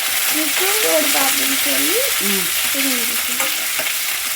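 Onions with curry leaves sizzle loudly and continuously in a hot pan for a tamarind kuzhambu and drumstick kootu, a dense bright frying hiss that never lets up while someone talks over it.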